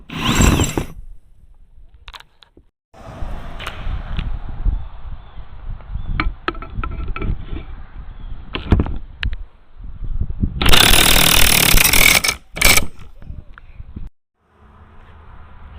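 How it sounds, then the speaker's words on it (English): A tool presses a U-joint cap out of a GMC Yukon XL drive shaft, making loud, uneven bursts of mechanical grinding and rattling with short quiet gaps and a final harsh whirring burst. "It's going to be just a little loud, but you should be able to just watch the U-joint move to the right"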